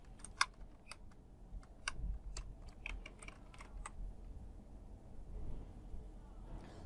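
Quick bursts of keystrokes on a computer keyboard, several sharp clicks in an irregular run, then quieter tapping over a faint background hum.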